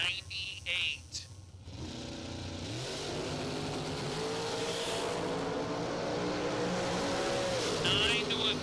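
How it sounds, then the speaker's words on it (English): At a bracket drag race, a door car and a dragster launch down the strip, their engines roaring and rising in pitch together after a brief idle. An announcer talks over the loud, sustained racing noise. "The door car takes out the dragster."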